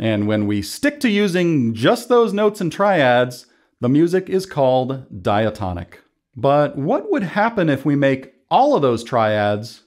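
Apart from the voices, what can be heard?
None of the usual background noises is heard.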